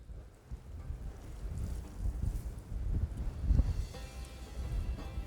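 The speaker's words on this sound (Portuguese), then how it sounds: "O vento soprava forte" Strong wind blows across open plains in a horror audio drama, a low, steady gusting roar with rumbling surges, moderately quiet and with no speech over it.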